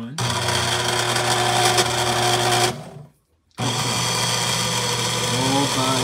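An Amazon Basics 8-sheet cross-cut paper shredder runs empty with no paper fed, its motor giving a steady loud mechanical drone that cuts out briefly for about half a second, then starts again and keeps running.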